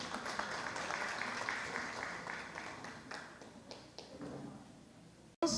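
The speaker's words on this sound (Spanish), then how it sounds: "Recibamos con un caluroso aplauso a la doctora Patricia Carrillo Montenegro." Convention audience applauding a speaker as she is welcomed, a steady wash of clapping that fades in intensity toward the end, with faint voices mixed in and an abrupt cut near the close.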